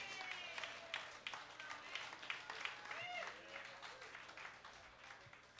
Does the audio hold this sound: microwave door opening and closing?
no